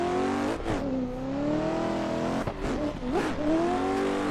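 A competition drift car accelerates hard through a banked section of track, its engine revving and rising in pitch with tire squeal, loud and close, with a brief dip in the middle before it climbs again.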